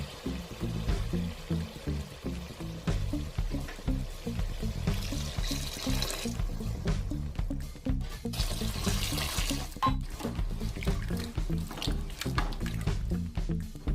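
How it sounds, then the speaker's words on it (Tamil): Water poured in two bursts into chicken gravy for 1.5 kg of chicken, three cups in all, each a short splashing rush over a steady rhythmic background. "250 கிராம் தண்ணி வச்சு 3 கப்பு ஊத்துறேன்."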